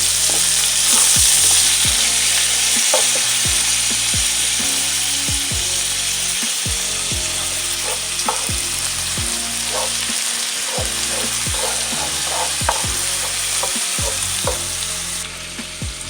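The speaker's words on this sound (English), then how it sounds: "I'm just going to start scooping it over. Stirring that up as it goes." Red cabbage sizzles steadily in a pot while being stirred, with a continuous loud frying hiss broken by repeated scraping and clanking of a spoon against the pot.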